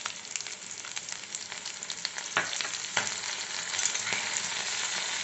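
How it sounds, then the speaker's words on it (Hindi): Chilli paneer sizzling in a hot pan as a spoonful of soy sauce is added, a steady crackling fry that grows slightly louder and busier toward the end, with no talking. "अब हम इसमें डालेंगे 1 चम्मच सोया सॉस।"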